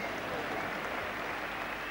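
Applause from a 1985 England v Australia Ashes Test crowd, greeting Ian Botham's fifth wicket of the innings: a steady, dense wash of clapping spread across the ground, held at an even level throughout.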